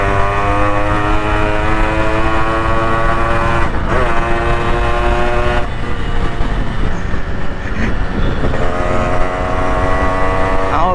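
A Yamaha RX100 motorcycle engine runs loud and continuous, holding a steady droning note that dips and shifts in pitch a few times with no voices over it.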